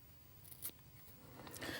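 Scissors snipping along the edge of a pink planner sticker, a couple of quick crisp cuts close to the microphone in a quiet room.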